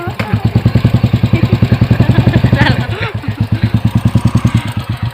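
A motorcycle idles close by with a steady, even thump of firing pulses that dips briefly near the middle before settling back, on a rural trip along a waterlogged road.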